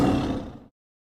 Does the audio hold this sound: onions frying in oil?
no